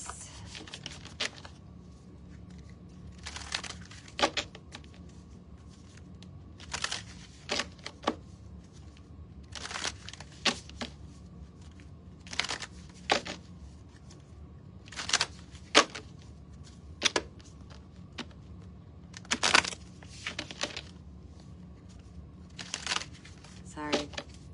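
Tarot cards are shuffled over and over in quick, crisp riffling bursts, close and fairly quiet, separated by short pauses against a low background hum.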